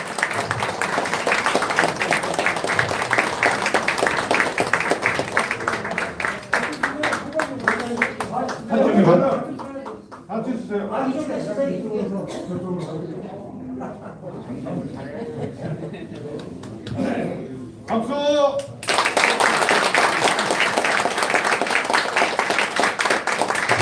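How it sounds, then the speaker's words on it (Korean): Crowd applause and clapping at a political endorsement rally in Korea, a loud sustained burst at the start and again at the end, with speech and murmuring in between. "네, 큰 박수 부탁드리겠습니다."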